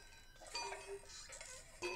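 A bell in the Swiss horror video game Mundaun rings with faint metallic ticking and chiming tones, quiet and sparse, heard alone in the game's ambience.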